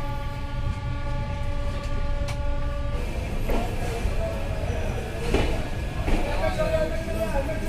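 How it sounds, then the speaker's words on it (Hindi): Nautanwa Durg Express pulling out of Mau station: a steady low rumble of rolling wagons with a sustained multi-tone horn in the first three seconds, then clattering wheel thuds as the train gathers pace, with a voice talking over it. "अब आप देख रहे हैं शानदार डिपार्चर अपनी ट्रेन का मऊ स्टेशन से।"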